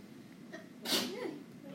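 A single sharp sneeze bursts out in a classroom during a math lesson, moderately close and brief, followed by quiet room tone.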